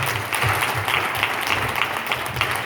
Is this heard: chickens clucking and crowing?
no